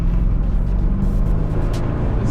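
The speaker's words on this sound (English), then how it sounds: "Just listen to that V8 just howl." A 2013 Jaguar XKR Special Edition V8 sports car engine roars in a steady, loud, deep rumble that fills the whole stretch, close by and with no talk over it.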